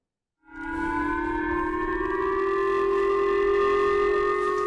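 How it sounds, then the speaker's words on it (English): A civil defense siren over the fishing town of Kitaura in Oga City, Japan, starts abruptly and holds a loud, steady wailing tone, echoing continuously without other sounds. "A siren sounding over the fishing town of Kitaura in Oga City"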